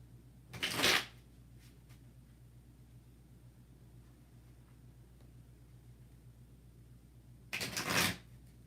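Spirit cards being shuffled in two short riffling bursts, one near the start and one near the end, close and crisp, separated by a long stretch of quiet room hum.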